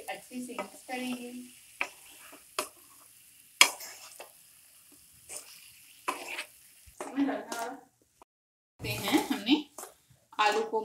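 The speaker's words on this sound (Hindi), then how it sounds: "आलू को मसाले के साथ अच्छे से भून लिया है" Potato pieces for dum aloo are turned and mashed in masala with a spatula, making intermittent scraping and sizzling bursts separated by quiet gaps, with a voice talking briefly in between.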